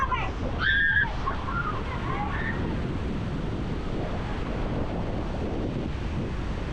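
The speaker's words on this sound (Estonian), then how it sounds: "Tuul on ikka võimas." Strong wind roaring and buffeting the microphone over the rushing water of Iguazu Falls, Brazil, constant and loud, with a brief voice early on.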